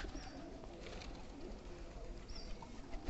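Pigeons coo softly amid a dense, noisy background, a few low murmuring calls over about three seconds, faint and slightly distant.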